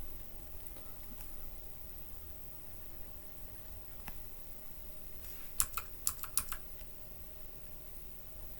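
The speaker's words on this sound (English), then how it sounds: "That clicking you hear is me using my bracket keys to increase or decrease the size of my" Computer keyboard bracket keys tapped while resizing a brush tool in photo editing, a quiet room hiss with a few scattered clicks and then a quick cluster of three or four sharper taps near the end.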